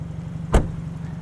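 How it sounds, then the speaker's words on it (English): The hood of a 2022 Hyundai Elantra N with a 2-liter turbo pops open: a single short clunk of the latch releasing over the low, steady hum of the idling engine. "Let's pop the hood and look at this 2-liter turbo."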